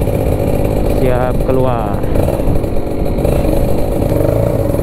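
A Kawasaki Ninja RR two-stroke motorcycle engine runs close and loud, a buzzy, raspy drone with a brief rev rising and falling early on, while a voice speaks briefly over it.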